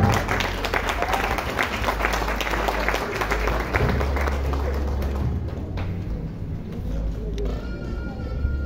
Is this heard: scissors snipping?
no